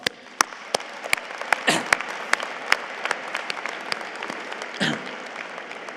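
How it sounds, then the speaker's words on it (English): Commencement audience applause in a large hall, scattered individual claps standing out sharply over a steady background of clapping, with a couple of louder bursts of cheering. "Let's give them a round of applause."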